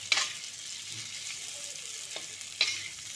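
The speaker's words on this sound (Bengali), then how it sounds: "আলুগুলো মোটামুটি ভাজা হয়ে এসছে" Broken boiled potatoes fry in an oiled wok, a low steady sizzle broken by a few sharp scraping stirs of a spatula, without talking.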